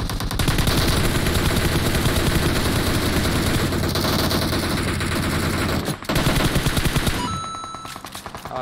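Dense, sustained automatic gunfire from other players in a shooter game, loud continuous bursts with a brief gap near the end before the firing fades into lighter, more distant shots.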